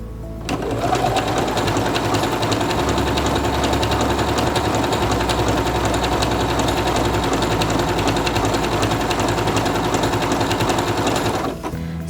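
A Quantum Stylist 9960 sewing machine stitches fabric in one loud, unbroken run, its fast rhythmic motor hum and needle clatter close and steady before cutting off at the end.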